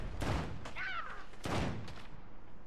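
Gunfire in the game Saints Row, a couple of sharp, loud shots a second or so apart, each with a booming tail, and a brief cawing bird-like cry in between.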